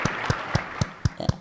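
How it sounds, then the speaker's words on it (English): An audience gives a brief burst of applause. The claps are distinct and evenly spaced, about four a second, and sound like one or a few people close by rather than a large crowd. "A big round of applause for your president and your government."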